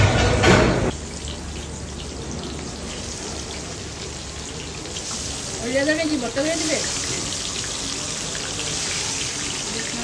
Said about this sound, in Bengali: বেগুন ভাজা হচ্ছে